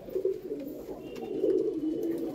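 Pigeons coo in soft, low, throaty bursts, several overlapping calls rising and falling close by, with no talk over them.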